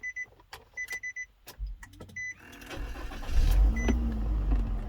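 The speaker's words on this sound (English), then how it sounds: "let me start the car." A car engine cranks and starts after several short electronic beeps and clicks, then settles into a steady idle, close by, with no talking.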